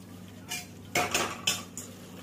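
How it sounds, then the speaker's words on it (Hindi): Metal utensil scraping and clanking against a cooking pot while mutton is stirred and fried for tahari, three or four distinct knocks over a low background hum, no talking. "अब हम इसे अच्छे से भून लेंगे गोश्त के साथ भी"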